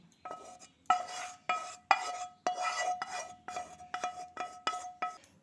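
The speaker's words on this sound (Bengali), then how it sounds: "চামচ দিয়ে একটু এইভাবে মিশিয়ে দিচ্ছি" A metal spoon clinks and scrapes against a pan in a quick series of rhythmic strokes, mixing onion-frying oil into an egg curry, close and crisp with ringing tones.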